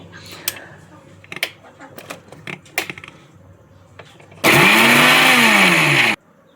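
A kitchen mixer grinder whirs loudly for about two seconds as it grinds spice powders for a mussel stir-fry, a steady high-pitched motor roar that starts and stops abruptly after some quieter handling noises.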